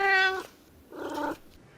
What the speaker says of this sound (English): Kim, have you seen the kitty?